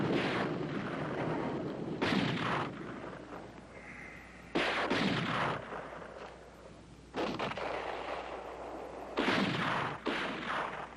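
Artillery gun firing in a mountain setting, several heavy booming reports spaced a couple of seconds apart, each followed by a long rumbling decay, loud and close with no talk over it.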